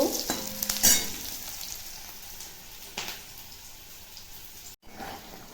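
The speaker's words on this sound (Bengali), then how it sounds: "বিরিয়ানি করার জন্য আমি এখন পেঁয়াজ আর লঙ্কা ভেজে নিচ্ছি" Onions and chillies fry with cinnamon, cardamom and clove in a pan for biryani, a steady sizzle with stirring scrapes and a brief bright clatter early on, close and moderately loud.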